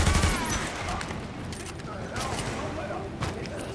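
Rapid bursts of gunfire from The Division video game rattle close and loud, mixed with talking voices throughout.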